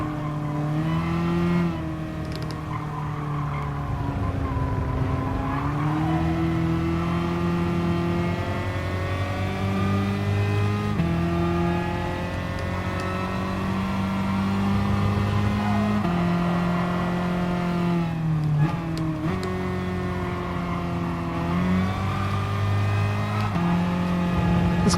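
Tesla Model S electric car racing in Gran Turismo, a continuous close motor whine that rises and falls in pitch with shifts and acceleration, sustained without pause and without voices.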